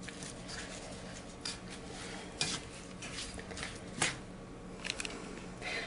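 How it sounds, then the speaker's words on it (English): Brown sugar being stirred in a pot on the heat, with soft scraping and occasional sharp clinks of a utensil against the pot, quiet and close. "And I'm going to just stir this, heat it up until the sugar is completely dissolved."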